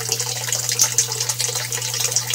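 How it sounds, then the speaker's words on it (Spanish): Water gushing and splashing as a bell siphon drains an aquaponics gravel bed, a steady loud bubbling flow with a low gurgling drone underneath. "Aquí estamos viendo cómo la empieza a drenar la válvula Bell. Empieza a producir el caudal."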